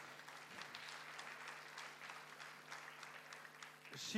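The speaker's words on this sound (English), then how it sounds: "Give her another applause" An audience at a design summit talk applauds a presenter, the clapping faint and distant, steady throughout with a brief louder sound at the very end.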